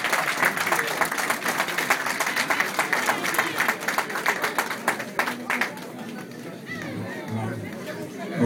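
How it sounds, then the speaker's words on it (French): An audience at a reception claps together, a dense run of applause mixed with crowd chatter and voices that fades after about five seconds as the murmuring continues. "On applaudit, on applaudit, on applaudit."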